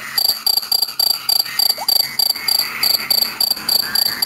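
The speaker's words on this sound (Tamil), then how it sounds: "ஃப்ராகு தவளை" Frogs croaking in a dense, rhythmic chorus of repeated pulsing calls, with a high insect-like trill running steadily underneath.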